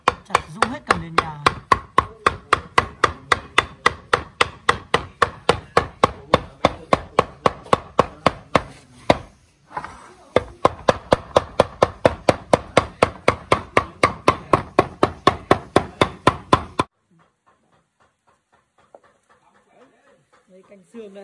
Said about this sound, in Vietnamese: Chặt rung hết cả nền nhà.